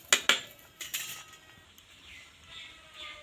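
Kochu (taro) flower fritters stirred in a cooking pan: two sharp metallic clinks of a utensil against the pan, then lighter taps and a faint sizzle, close and otherwise quiet.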